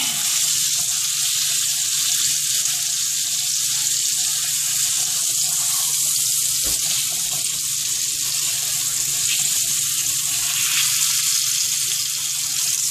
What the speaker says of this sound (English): Make sure to sear what we can there.